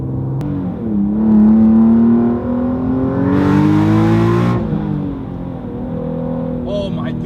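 A 500HP Greddy twin-turbo Nissan 370Z engine revs loudly and close, with rising pitch as it accelerates, a brief lift, then another strong pull before settling to a lower drone.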